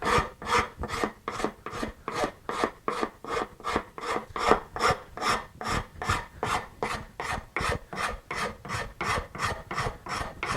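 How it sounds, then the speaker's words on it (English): A fine modeler's rasp files a wood sculpture with steady, rhythmic rasping strokes, about two per second, close and fairly loud, with no talk. "Now I'm going to come back with my fine modeler's rasp."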